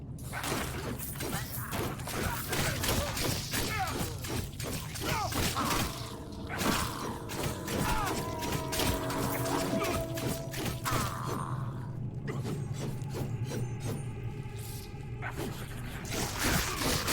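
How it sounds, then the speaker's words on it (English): Barrels and crates smashing in the action RPG Warhammer: Chaosbane, a rapid run of crunching breaks and clatters layered over steady game music and combat noise. "Every game you're breaking all the barrels."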